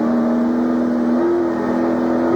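Touring race cars circle Phillip Island in 1996 championship racing, engines droning loudly and steadily at high revs, one sustained note rising slightly in pitch partway through as a car gains speed.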